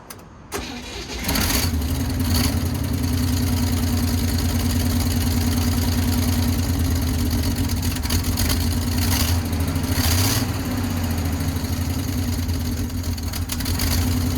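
A Chevrolet C10 pickup engine cranks briefly, catches and settles into a steady, loud cold idle with a low rumbling drone and slight fluctuations near the end.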